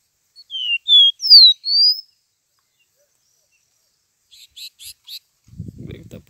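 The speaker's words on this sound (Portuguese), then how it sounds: "Os greguinhos aqui cantando." A caboclinho seedeater sings outdoors: a few clear, high, sweeping whistled notes in quick succession, then a brief run of faint chirps and a little low rustling, with long silences between.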